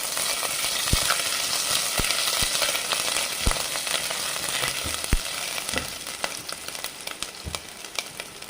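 Seasoning splutters in hot oil in a pan, a loud close sizzle with frequent sharp pops and crackles scattered through the frying.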